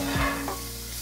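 Food frying in butter sizzles steadily in a pan for about a second, a close, even hiss with no voices over it.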